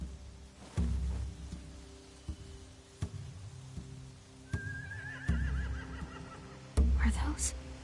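Horses neigh and whinny amid clip-clopping hooves in a Walking Dead video game scene, several separate calls and hoof thumps spaced through a quiet outdoor ambience, with one long rising whinny near the middle.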